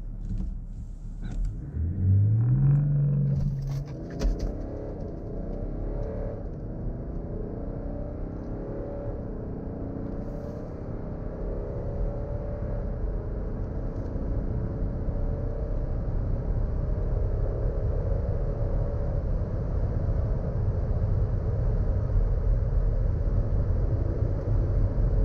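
A BMW X5 diesel with the B57 engine accelerating hard during a performance run, a loud rising engine roar and rumble that keeps building for over twenty seconds, with no talk.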